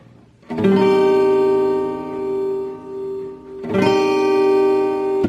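An acoustic guitar minor chord is strummed and left ringing, then strummed again a few seconds later, close and sustained, with no talking.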